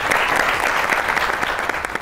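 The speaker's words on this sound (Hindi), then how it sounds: "बहुत सी तालियां होनी चाहिए दोनों मेहमानों के लिए।" Studio audience applauding two guests on an Eid special comedy talk show, a dense, steady burst of clapping that stays loud and even for about two seconds with no voices over it.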